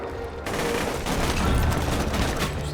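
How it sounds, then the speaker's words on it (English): Sustained automatic fire from a Teddy SMG in Borderlands 2, a dense rattling burst that starts suddenly and keeps rolling at steady loudness, close up, no voices. "This Teddy SMG has lasted me a while."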